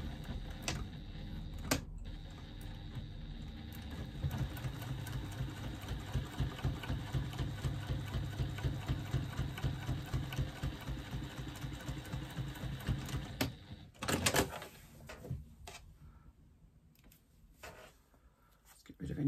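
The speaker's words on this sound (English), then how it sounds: "top stitching, and we'll do a second line because I like to do two lines" A sewing machine top stitching fabric for a bag's slip pocket runs in a fast, steady mechanical rattle for about thirteen seconds, then stops with a clack and quieter handling noises, close and fairly soft.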